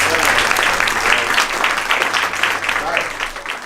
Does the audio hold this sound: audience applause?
yes